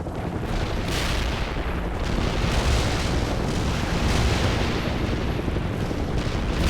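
Artillery barrage in the real-time strategy game World in Conflict rolls on as a continuous, dense roar of overlapping blasts and rumbling booms, loud and close throughout with no clear gaps.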